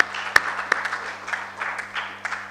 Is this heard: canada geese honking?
no